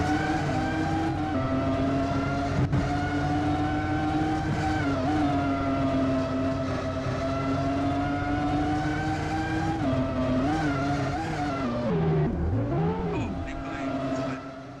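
A Formula 1 race car spinning out in a Roblox racing game during free practice, its steady high engine whine wavering and dipping as it loses grip, loud and continuous.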